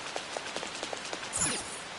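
Rain falls steadily in the video game Persona 5 Royal, a soft continuous patter of drops with scattered brighter taps and a brief swelling splash near the end, heard alone without talk.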